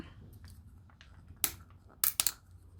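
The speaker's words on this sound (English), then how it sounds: "Again, breaking the glass." Cured poured paint being scraped off glass cracks with a few sharp snaps: one crisp break mid-clip, then a quick double crack near the end, over a quiet background.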